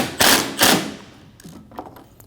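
Mounting bolts on a 2012-2022 Volkswagen Passat radiator being snugged down with a ratchet: two loud, close bursts of clicking ratcheting, followed by fainter scattered metallic clicks and taps.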